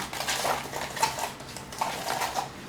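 Aquascaping putty being stirred in a container for a saltwater reef aquarium, giving close scraping and clinking strokes in repeated bursts about every half second, with no talking.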